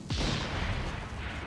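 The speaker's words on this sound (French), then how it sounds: "Et on observe un petit peu l'explosion." A loud, booming explosion erupts in Assassin's Creed Syndicate, a sudden blast followed by a sustained roaring, crackling rumble that fills the whole moment, with no voices.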